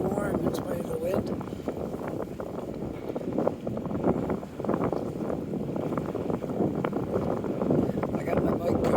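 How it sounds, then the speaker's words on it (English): Outdoor wind on Portland Street in Dartmouth, a steady broad rushing and buffeting against the microphone, fairly faint and continuous throughout. "Quite the wind blowing around here, but it's beautiful nevertheless."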